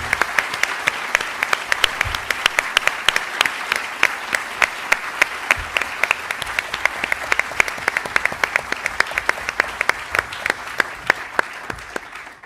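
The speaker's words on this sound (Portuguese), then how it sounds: "uma salva de palmas para si" An audience at a Brazil Forum UK education panel bursts into sustained applause, dense rapid clapping from many hands at close range, steady and undiminished for the whole stretch before tailing off.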